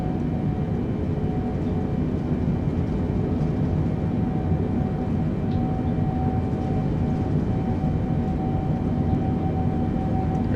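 Boeing 747-8F jet engines in Microsoft Flight Simulator 2022 during a takeoff roll, a steady, loud broadband roar with a thin whine riding on top, holding constant throughout.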